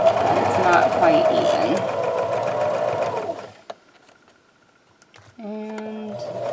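A sewing machine with a zipper foot stitches zipper tape in a fast, steady, close whirring run that stops after about three seconds. After a short quiet gap, a voice is heard.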